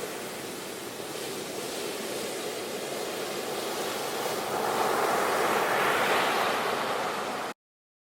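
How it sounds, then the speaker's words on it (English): Ocean waves give a steady, broad wash of surf that swells louder toward the end before cutting off abruptly. "I see water with waves."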